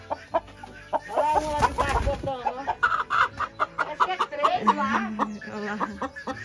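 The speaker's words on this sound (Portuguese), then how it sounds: "Aqui, olha que galinha bonita." Farmyard hens cluck and chatter close by in a steady, busy series of calls, with people talking in Portuguese among them.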